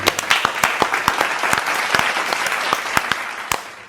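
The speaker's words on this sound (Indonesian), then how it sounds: "Kita berikan tepuk tangan." A crowd claps steadily, a dense burst of applause with sharp individual claps standing out, lasting the whole stretch without any talk.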